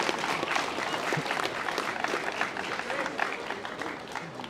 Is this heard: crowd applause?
yes